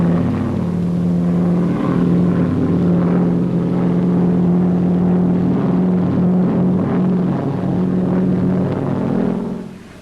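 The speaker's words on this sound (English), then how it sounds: "The Auster Eaglet, the light aircraft par excellence." An Auster Eaglet light propeller aircraft drones overhead, a loud steady engine hum with a constant pitch that holds throughout before trailing off at the end.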